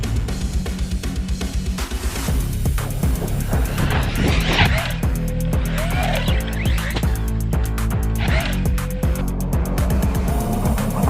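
A Corally XTR 6S RC basher car drives and accelerates, its electric motor whining up and down in pitch with repeated revving passes and possible tire squeal, loud and close with no talk.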